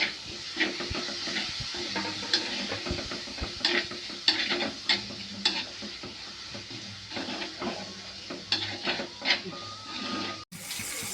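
Onions with salt are stirred in a pan for a Kerala coconut-milk fish curry, with irregular scraping strokes over a low, continuous sizzle and a brief break near the end.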